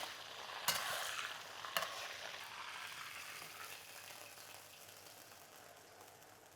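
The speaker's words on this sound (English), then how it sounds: "I'm going to blanch it in this oil for about 30 seconds." Beef slices blanching in hot oil in a wok for a black pepper beef dish, a broad frying hiss that flares with two sharp bursts early on and then settles into a steady sizzle that slowly fades, with no voices.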